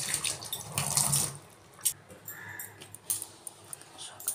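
Tap water runs and splashes steadily while potatoes and eggplant are washed, with a few light knocks and clinks of produce and containers near the sink.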